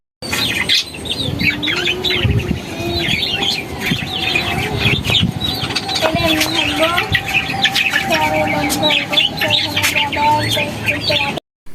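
Many chicks peeping in rapid high chirps alongside occasional chicken clucks, close and continuous, with people talking over them.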